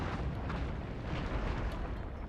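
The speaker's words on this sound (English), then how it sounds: "My artillery's gone after hardcore." Artillery fire in the Shogun 2 battle game, a continuous rumbling barrage of low booms and blasts blending into a dense roar throughout.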